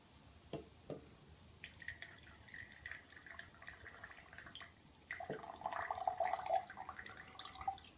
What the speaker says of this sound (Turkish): Ondan sonra sürahideki soğuk suyu dökeceğiz.